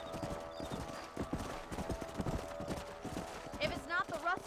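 A horse gallops in the video game Red Dead Redemption, with quick, rhythmic clip-clopping hooves up close under other game sounds, and a brief whinny toward the end.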